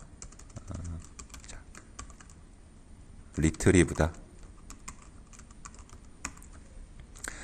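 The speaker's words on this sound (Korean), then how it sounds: "타이핑을 직접 해보겠습니다" Scattered keyboard clicks patter in the background, then a short burst of keys, while a person speaks in brief phrases.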